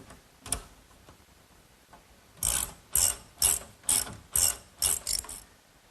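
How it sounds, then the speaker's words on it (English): Ratchet tightening a nut and washer on a wooden bed frame connection, a few faint knocks and then a run of about eight quick, crisp clicking strokes nearby, with no talking. "Now a washer and a nut. Tighten it down."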